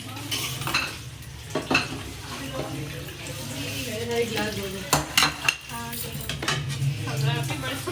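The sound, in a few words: washing dishes, clinking utensils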